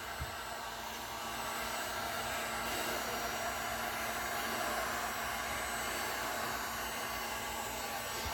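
DFD Torch and Blow TNB heat torch blowing its flame over poured resin, a steady loud roaring hiss with a faint hum that holds evenly throughout, close up.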